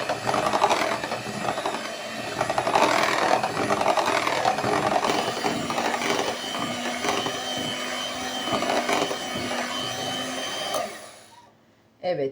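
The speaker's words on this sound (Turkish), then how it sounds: "pürüzsüz hale gelinceye kadar çırptım" An electric hand mixer whirs steadily through cocoa cake batter with baking powder and vanilla, a continuous close buzzing drone with slight rattling that cuts off near the end.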